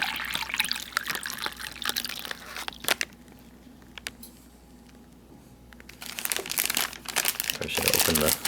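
Water trickles and splashes into a crinkly plastic MRE hot beverage bag, with rustling and crumpling of the plastic throughout; a quiet pause in the middle before more pouring.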